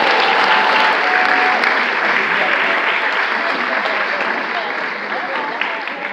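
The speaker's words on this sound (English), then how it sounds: "Another round of applause for all of our small Heiser winners" Loud, dense applause fills a large hotel ballroom at a teachers' union awards event, a steady roar of many hands that eases slightly toward the end, with talk mixed in.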